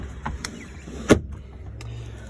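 A short electric whir of a motorhome's power window closing, with a sharp click as it seals, close by in a quiet vehicle interior.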